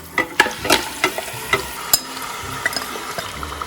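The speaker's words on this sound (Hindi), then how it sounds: "तो अब आपने इसको गोश्त को थोड़ा सा इसमें फ्राई कर लेना है।" Marinated mutton frying in oil for a mutton korma, a steady sizzle broken by sharp clicks and scrapes from a stirring utensil, close and fairly loud with no talk.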